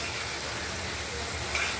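Spiced masala sautéing in hot oil for a Bengali katla fish curry with potato, tomato and coriander, a steady close sizzle and crackle with no voices.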